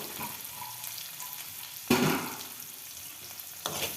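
Oil heating in a pan for frying capsicum gives a soft, low hiss, then a sharp burst of sizzling at about two seconds and a smaller one near the end.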